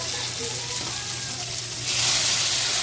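Vegetables dropped into a sizzling mung bean stew, a steady frying hiss that grows louder and brighter as they hit the hot pot.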